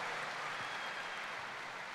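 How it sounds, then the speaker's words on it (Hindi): An audience applauds as Pradeep Mishra, a Safe Shop leader, is called up to the stage at a company event, a steady broad rush of clapping from a sizable crowd, even and sustained throughout. "जोरदार तालियां हमारे वीनस लीडर प्रदीप मिश्रा जी के लिए"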